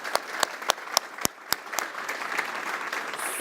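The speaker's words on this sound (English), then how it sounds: "we'll hear a big round of applause from everyone here" A studio audience at an Australian Olympic forum applauds Olympians. A few distinct, sharp claps ring out first, then swell into a steady, dense round of applause that carries on to the end.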